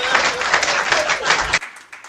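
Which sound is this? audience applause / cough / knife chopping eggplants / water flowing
audience applause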